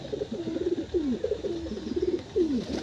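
Breeding pigeons in a loft coo repeatedly in low rolling, swooping calls, several close voices overlapping steadily without speech.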